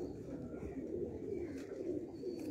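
Low, throaty cooing from old-breed Sialkoti pigeons in Sialkot runs continuously at moderate volume, a soft rolling murmur with no pauses.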